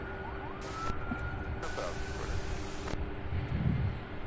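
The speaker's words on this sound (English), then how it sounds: "this guy here doing his best to scare the birds off. He's using sirens" A siren wails at Louisville International Airport to scare birds away, sounding in two separate bursts over a steady rumble of distant airport traffic and wind.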